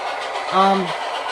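An excursion train sounds a short horn blast as it runs toward the station; the single tone rises and fades within about half a second over a steady background rumble.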